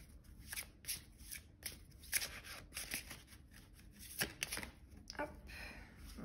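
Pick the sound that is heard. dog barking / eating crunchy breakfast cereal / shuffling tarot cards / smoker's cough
shuffling tarot cards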